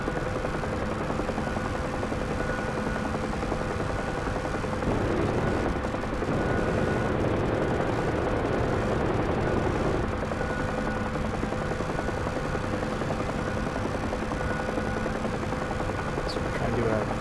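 A UH-1H helicopter flies in the combat flight simulator DCS World, its rotor and turbine making a steady droning thrum throughout, with someone speaking over it now and then.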